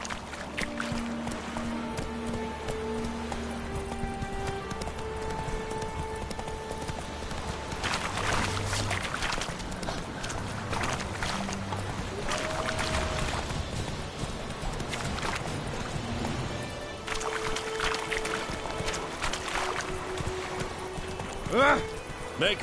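Roach the horse galloping in The Witcher 3, rhythmic hoof clip-clop running steadily throughout, mixed with game music and a voice talking over it.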